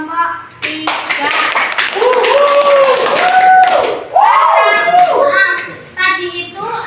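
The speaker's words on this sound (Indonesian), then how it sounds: "Kasih tepuk tangan kelompok 3." Schoolchildren in a classroom clap for the winning group, a burst of lively hand claps mixed with excited kid voices and cheering, loud and close, rising and falling in waves.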